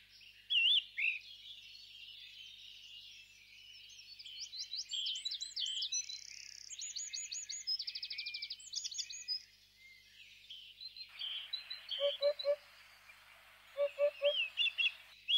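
A hoopoe calls among other birdsong in Tuscan countryside, with varied chirps and whistled trills at moderate distance, then a run of soft low repeated hoots near the end, with no talking.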